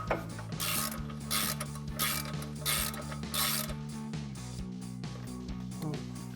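A ratchet tightens the lower strut bolt on a 2019-2023 RAM 1500 during a 3.5-inch suspension lift install, giving a series of close, rhythmic clicking strokes over a low mechanical hum.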